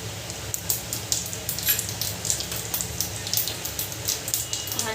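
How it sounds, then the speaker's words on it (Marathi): Mustard seeds and cumin spluttering in hot oil in a home kitchen pan, a dense, continuous crackle of sharp pops and sizzling, close and fairly loud with no talk. "मोरी तडतडली का आपण तिथे जिरा टाकणार"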